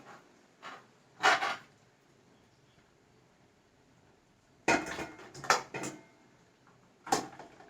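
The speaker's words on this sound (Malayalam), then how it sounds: "ഇനി നമുക്ക് അതിൻ്റെ മേലെ ചോറിട്ട് കൊടുക്കാം" Cooked rice spooned over beef in a pot for Kannur-style beef biryani: a few sharp scrapes and clinks of a spoon against the pot, in short clusters separated by quiet pauses, close by with no talk.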